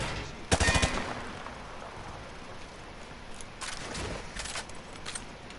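Rapid bursts of gunfire at shooting targets in Modern Warfare 2 Remastered, a sharp rattling volley up front followed by scattered shorter shots, loud and close over a steady background hiss.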